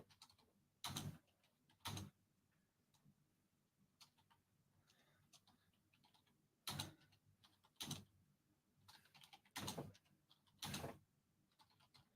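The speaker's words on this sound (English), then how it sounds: "just typing this up just to make it easier for myself" Keys on a computer keyboard clatter in a few short, separate bursts with pauses between them. The typing is quiet and close, with no talking.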